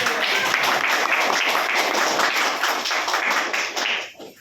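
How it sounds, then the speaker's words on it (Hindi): Applause at a weekly business meeting in Gaya, Bihar: a dense, steady wash of clapping from a gathered audience that holds evenly for several seconds, then thins and fades out at the end. "इसके सम्मान में एक बार जोरदार ताली"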